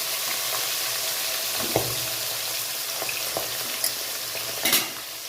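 Magur catfish frying in hot oil under a covered pan, a steady crackling sizzle broken by sharp pops and spatters, close and loud.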